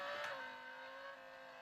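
Lamborghini Huracan racing car accelerating in the mobile racing game Real Racing 3, a steady high-pitched engine whine with a brief burst near the start, loud and continuous without talk.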